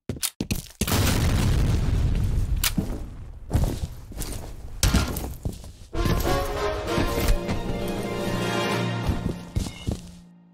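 Grenade blasts in the multiplayer shooter F.E.A.R. Combat: several loud, sharp booms in quick succession, followed by a sustained roar of debris and gunfire-like noise, close and dominant.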